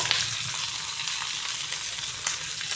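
Cucumbers frying in a pan with salt for a sesame sour dish, a steady hissing sizzle with faint crackles and a low hum beneath, close and even, with no talking.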